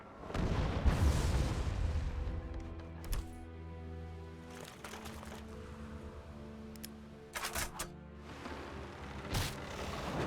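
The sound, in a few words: cannon fire in the video game Warlock 2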